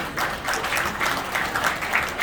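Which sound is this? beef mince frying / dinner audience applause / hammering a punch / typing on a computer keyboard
dinner audience applause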